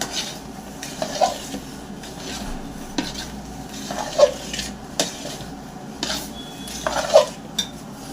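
Kesari bath mixture with sunflower oil is stirred in a pan, a soft continuous scraping and gentle sizzle punctuated by three clear clinks of a spoon against the metal at regular intervals.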